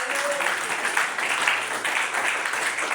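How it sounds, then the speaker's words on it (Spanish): Church congregation applauding during a Spanish-language sermon, a steady dense wash of clapping that holds evenly throughout without pause. "Dele ese aplauso al Señor."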